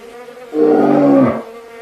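A swarm of wild Indian bees defending their honey from a young black bear gives a single swelling buzz that rises, holds about a second, then fades, close and loud.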